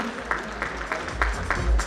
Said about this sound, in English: Ladies and gentlemen, can we have a louder applause from everyone?